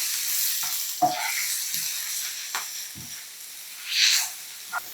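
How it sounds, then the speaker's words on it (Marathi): Coriander paste is sautéed in a hot pan for sabudana khichdi, a faint sizzling hiss broken by a few short scraping stirs and one louder burst of spatter near the end. "हे कोथिंबीरीचं वाटण जे आपण करून घेतलंय हे घालूयात. वा, परतून घ्यायचं."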